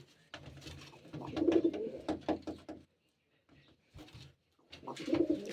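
Pigeons coo in low throaty bursts, close by, with brief pauses and some soft rustling between the calls.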